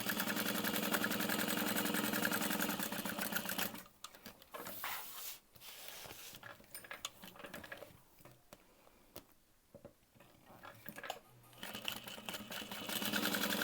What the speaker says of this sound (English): I am just going to sew 2 parallel lines, starting with my needle in the corner.